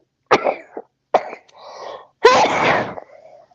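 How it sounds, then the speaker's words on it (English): A woman sneezes loudly up close in a few quick spasms, with a breathy lead-in and a full burst at the end. "I got to sneeze, guys."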